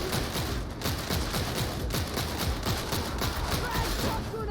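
Rapid laspistol gunfire in Darktide, a steady stream of sharp energy shots fired in quick succession at close range, loud throughout with faint voices underneath.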